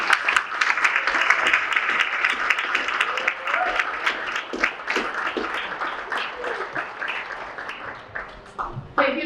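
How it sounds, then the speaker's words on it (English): Audience clapping at a 2021 varsity club sports banquet rolls along as a busy, crackling patter of many hands, fairly close and steady, then gradually loosening into scattered claps. "Please join me in a round of applause for you."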